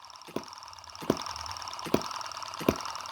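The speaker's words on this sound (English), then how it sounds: "That was the sound of the spark plug sparking" The spark plug on a small hit and miss model engine, a Chinese M17 vintage-style engine, sparks as four faint, sharp clicking ticks at irregular intervals over a low steady background hum.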